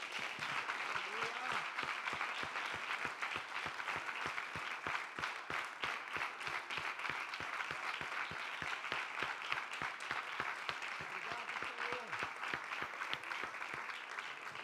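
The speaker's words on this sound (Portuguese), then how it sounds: "Vamos aplaudir forte a presença de Deus" A church congregation applauds loudly and steadily for the presence of God during an evening youth service, a dense, sustained wash of clapping from many hands with some voices mixed in.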